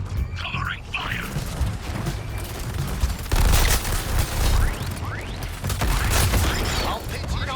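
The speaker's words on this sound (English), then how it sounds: "Covering fire" Bursts of covering gunfire crackle in rapid, dense volleys during a Suicide Squad: Kill the Justice League fight, loud and close, with rumbling game effects and a voice speaking over parts of it.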